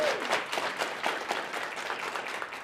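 Audience in a library room applauding at an evening book event, a steady wash of clapping from many hands lasting throughout, moderately loud with no talking.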